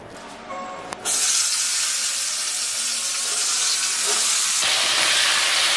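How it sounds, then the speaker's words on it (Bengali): Cauliflower pieces drop into hot oil in a wok and set off a sudden, loud, sustained hiss of deep frying that stays steady and close until the end. "এবার আমি কপিটাকে একটু ভালো করে ভেজে নেব।"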